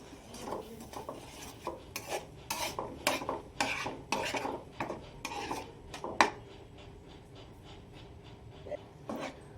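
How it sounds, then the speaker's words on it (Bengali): Palm fruit pulp being stirred in a hot wok, with repeated scraping and clinking of a utensil against the metal in an uneven rhythm, close and moderately loud, with no voices. "এবারে তালের পাল্পটা ভালো করে নেড়ে নেব একটু"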